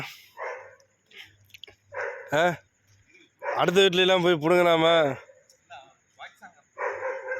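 A dog barks and whines near a parking area in Qatar, a single sharp yelp followed by a longer drawn-out stretch of barking, with people talking around it.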